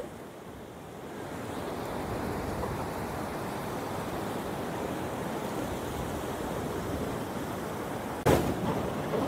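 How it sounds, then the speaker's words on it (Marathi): High-tide sea waves at Juhu beach in Mumbai make a steady, broad roar of surf that rushes on without pause. A brief gusty bump breaks in near the end, with no voices. "आता मी जुहू बीचला आली आहे आणि पाणी बघताय तर भरती आली आहे"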